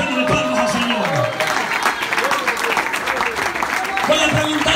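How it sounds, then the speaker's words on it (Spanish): A church congregation claps together, a dense, loud burst of applause from a crowd, with voices talking and calling out over the clapping throughout. "Dele fuerte palmas al Señor."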